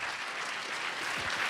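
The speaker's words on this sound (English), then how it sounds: "I hope that you give a warm round of applause for James, Sean, Justin," Audience applause for a panel of speakers at a live discourse event in Fort Worth, a steady, dense wash of clapping filling the whole short stretch at moderate level.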